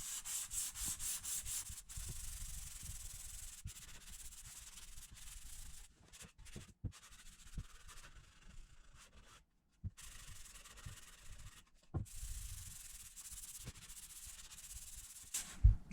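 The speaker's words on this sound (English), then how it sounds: "The final step in sanding is to use 120 grit paper and a sanding block." A wooden plate is sanded with 120 grit paper on a sanding block. Close, continuous, raspy rubbing strokes keep a steady back-and-forth rhythm, with a few short pauses and knocks.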